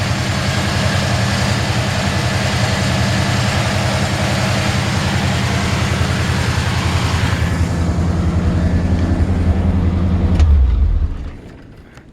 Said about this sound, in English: Seems like the idle's set just a little bit high.